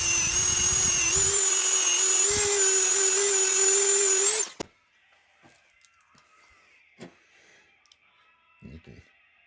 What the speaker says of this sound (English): I'm going to polish it real quick so I can get a better look at it using my Dremel tool and a wire brush.